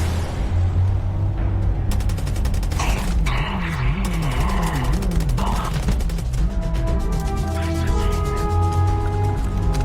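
The Rattler gun firing in Starfield, a busy mechanical clatter of rapid shots with ratcheting, whirring weapon noise over steady game ambience, loud and near, with a thicker burst around the middle.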